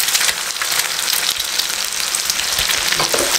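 Egg frying in a pan for restaurant-style egg chowmein noodles, a loud, dense, steady sizzle that crackles without pause, close by and with no voices.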